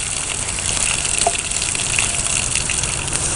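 Water gushes steadily as leather soaks for hafting a ditch axe, a continuous close hiss and splash with small bubbling bits and no voices.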